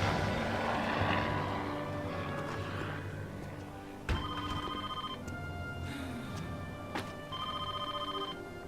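Telephone ringing inside the video game Trespasser, repeated bell-like ring bursts at a steady rhythm over a dense, droning background of engine-like game ambience, moderately loud and without talk.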